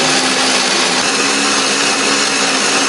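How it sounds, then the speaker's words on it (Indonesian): A blender grinds spices with a little water or oil, giving a loud, steady, continuous whirring roar with no breaks and no talking. "Aku menghaluskannya menggunakan blender, beri sedikit air ataupun minyak juga boleh"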